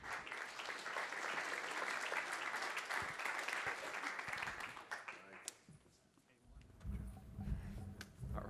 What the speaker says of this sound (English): Round of applause for Jim and Jake